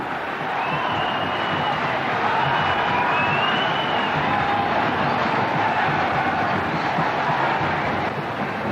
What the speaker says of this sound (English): The crowd really loving this start.